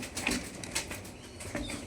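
Pet pigeons moving about, with a few soft bursts of wing flapping and faint rustles, quiet and close with no voices.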